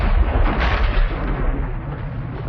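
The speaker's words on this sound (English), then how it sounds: "the missile could be steered onto its" Sagger anti-tank missile striking its target in the 1973 October War, heard as a heavy, sustained rumbling blast with deep low-end roar across the whole moment.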